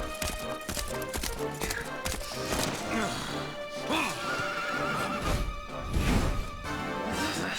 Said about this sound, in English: That's a horse!